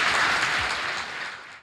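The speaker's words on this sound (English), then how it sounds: "Clap for Jesus." A congregation at a church service claps in a brief, dense burst of applause that fades out at the end, with no speech over it.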